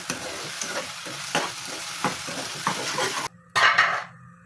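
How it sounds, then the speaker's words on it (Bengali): Tomatoes sizzle as they fry in oil, with repeated stirring scrapes and utensil clinks against the pan. After a brief cut, a louder, brighter burst of frying follows. The sizzle runs steadily beneath the clatter. "তেল দিয়ে ভালো করে ভেজে নিতেছি"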